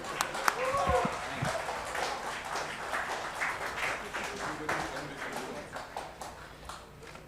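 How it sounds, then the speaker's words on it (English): Audience at a business panel event on Indian industry claps steadily, a dense wash of many hands sustained throughout, moderately loud with some voices mixed in. "You can just clap a little louder."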